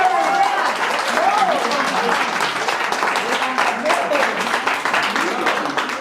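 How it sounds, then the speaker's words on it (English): Audience applause at a school English debate competition after the winner is announced, a steady round of clapping lasting several seconds with voices of the crowd mixed in throughout. "Clap, guys!"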